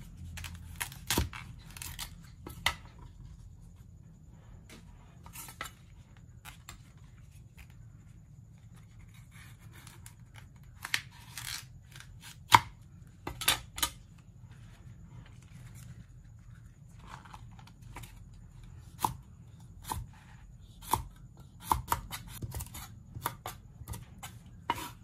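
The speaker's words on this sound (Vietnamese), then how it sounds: "Bây giờ mình sẽ xắt cải mình rửa nha." A knife slices cabbage on a cutting board in quiet, irregular crisp chops and taps, some in quick bursts and others spaced apart, over a low background hum.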